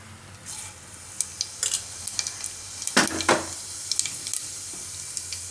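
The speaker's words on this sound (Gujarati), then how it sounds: "તો એમાં આપણે નાખીશું થોડુંક આખું જીરું." Whole cumin seeds dropped into hot oil for a Gujarati dry potato bhaji, giving a close crackling sizzle with sharp pops and a brief louder burst midway, no talking.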